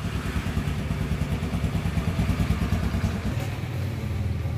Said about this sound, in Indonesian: Suara mesinnya bisa kita dengar sangat mulus ya.